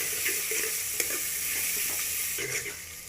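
Tomato and green chillies fry in a pan while being stirred, giving a steady close sizzle with a few light scraping strokes of the spoon and no talk.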